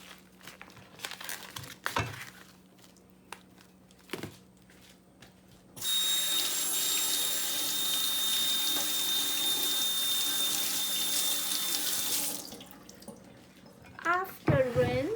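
Salmon rinsed under a running kitchen tap in a sink: a steady, close rush of water lasting about six seconds, framed by handling clatter and light crinkling before and after.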